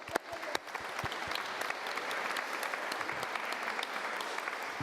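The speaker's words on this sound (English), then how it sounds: "Quick round of applause for Donna" Conference audience applauding Donna at the Co-op Congress, a steady, full round of clapping that holds for several seconds after a sharp start.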